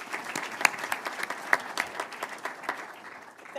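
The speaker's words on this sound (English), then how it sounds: "let me please ask for a round of applause" An audience applauds to welcome a speaker at a business outlook event in Houston, a dense steady clapping from a crowd with a few sharper individual claps, fairly close, without talk.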